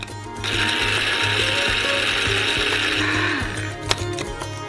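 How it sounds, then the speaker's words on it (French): A kitchen blender grinds dried shells into powder, a loud steady whirring hum that runs almost the whole time, with rattling and clattering mixed in and a sharp knock near the end. "Et on balance au mixeur."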